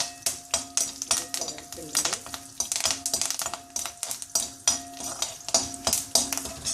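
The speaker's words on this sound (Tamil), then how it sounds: "கருவேப்பிலையும் போட்டு நல்லா சிவக்க வறுத்துக்கணும்" Curry leaves fry in hot oil with mustard seeds and urad dal, giving a steady patter of sharp crackles and pops that stay close and fairly quiet.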